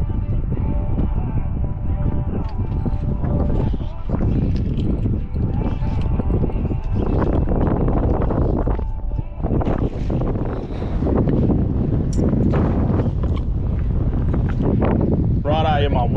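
Wind gusts across the microphone at a boat ramp on a windy day, a steady broadband rush that stays loud throughout, with voices talking over it.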